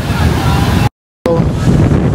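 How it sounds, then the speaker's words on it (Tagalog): Strong wind in Boracay roars and buffets the microphone in a loud, rough rush that briefly cuts out to silence before returning just as harsh. "Sobrang lakas ng hangin."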